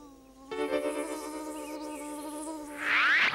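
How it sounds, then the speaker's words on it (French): A cartoon bee buzzes in a steady, nasal drone that switches on abruptly, holds level, then grows louder and sharper near the end as if passing close by. No talk is heard over it. "Tu as vu cette abeille, Banco?"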